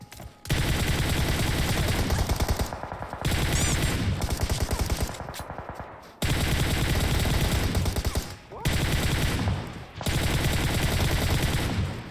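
Gunfire in the mobile shooter PUBG Mobile: loud, dense automatic bursts crackle nearly nonstop, broken by a few short pauses, close and dominating the mix.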